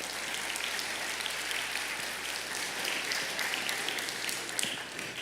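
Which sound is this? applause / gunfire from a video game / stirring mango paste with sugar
applause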